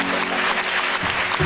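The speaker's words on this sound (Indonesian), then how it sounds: "kita beri tepuk tangan kepada Tuhan" A large crowd of about 350 people at an installation ceremony applauds, a dense, continuous roar of clapping that stays loud and even throughout the brief moment.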